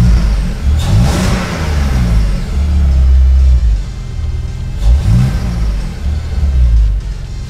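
A supercharged BMW engine of about 300 hp runs close by with a deep, heavy rumble that swells and eases in repeated revving surges.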